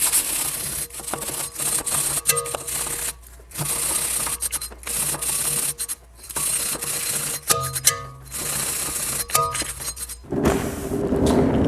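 Mechanic cleaning a car part by hand, repeated scrubbing and rubbing strokes in uneven bursts with short pauses, close up and moderately loud.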